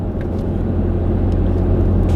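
Steady low road rumble and engine drone inside a Peugeot 308 1.6 BlueHDi while driving, a continuous, fairly loud cabin hum with no talking.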